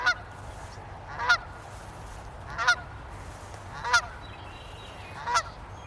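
Canada geese honking outdoors on a lavender food-forest farm, four loud, evenly spaced honks about every 1.3 seconds over a steady low background rumble, with no talking.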